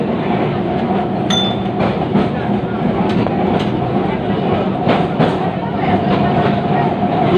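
A Kolkata tram runs along its rails, a loud continuous rumble with rhythmic wheel clatter and a few sharp metallic squeals and clicks over the steady roll.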